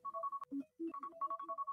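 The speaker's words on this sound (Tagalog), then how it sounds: "Alarm yung cellphone ni Mrs." A cellphone alarm plays a bright, tinkly electronic melody of quick repeating notes, clear and fairly loud, running without pause and without talk over it.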